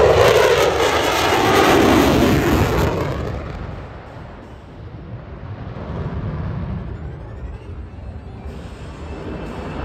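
Lockheed Martin F-35A Lightning II fighter jet making a low pass at about 300 knots with its weapons bay open during an air show demo, a loud roaring jet engine that builds and then fades as it moves away, with no talk.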